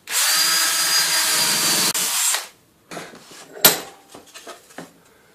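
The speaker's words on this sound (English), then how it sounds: "So we'll just do the same thing again with the power drill." A power drill whirs loudly and steadily into wood for about two seconds, then stops; a few scraping and knocking handling sounds follow.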